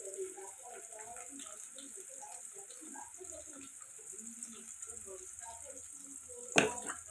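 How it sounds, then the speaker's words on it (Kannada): Onions, coriander and green chillies fry in a pan with a steady, quiet sizzling hiss that runs under continuous talking, and a brief sharp clink comes near the end. "ನಾನು ಇವಾಗ ಕೊತ್ತಂಬರಿ ಹಸಿಮೆಣಸಿನ್ಕಾಯಿ ಹಾಕ್ಕೊಂಡು ಫ್ರೈ ಮಾಡ್ಕೊತೀನಿ"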